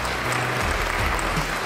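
A studio audience at a startup pitch show claps in a dense, sustained burst of applause, loud and close, with no speech over it.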